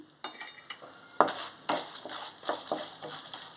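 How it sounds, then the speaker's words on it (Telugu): Moong dal frying in a pan with cashews, chana dal and urad dal for jowar rava upma, a light sizzle broken by repeated spoon scrapes and taps, close and without speech. "ఇప్పుడు పెసరపప్పు వేసుకొని వేపుకోవాలి"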